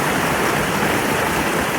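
Swirling water churns loudly and continuously where falls converge into a vortex, a dense, unbroken rush with no voices.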